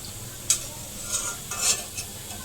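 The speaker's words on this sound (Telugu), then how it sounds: "పీసెస్ని వేసుకొని మీడియం ఫ్లేమ్లో మాత్రమే ఫ్రై చేసుకుందాం." Wheat flour biscuit pieces fry in oil over a medium flame, giving a steady bubbling sizzle broken by a few sharp scrapes and taps of a utensil in the pan.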